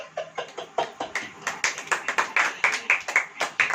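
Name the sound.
audience clapping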